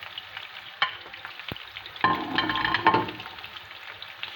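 Frying in olive oil in a pan, a soft crackling sizzle that swells midway with scraping and stirring, then settles back down, close up with no voices.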